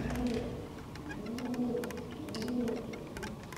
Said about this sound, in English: It's an owl hooting as I'm doing this.